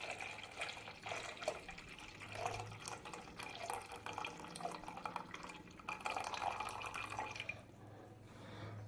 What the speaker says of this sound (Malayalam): അപ്പോൾ ഈ ശർക്കരപ്പാനി ഇതിലേക്ക് ഒഴിച്ച് കൊടുക്കുന്നുണ്ട്.